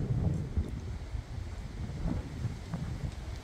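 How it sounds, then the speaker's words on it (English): Wind gusts through a garden as a soft, low rumbling buffet against the microphone, rising and falling unevenly and staying faint throughout. "It's pretty windy."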